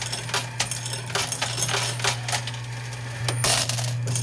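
Coins dropping into a coin pusher arcade machine, repeated metallic clinks and clatters at an irregular pace over a steady mechanical hum, close and clear.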